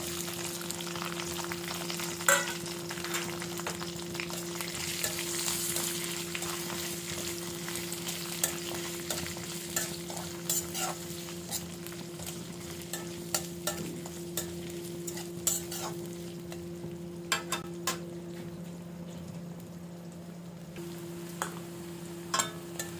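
Onion frying in a small amount of oil, a continuous soft sizzle with frequent scraping stirs and occasional sharp clicks, alongside a steady low hum, close and fairly quiet, with no speech.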